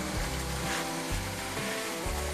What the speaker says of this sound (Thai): น้ำไหลออกจากท่อส่งนะครับ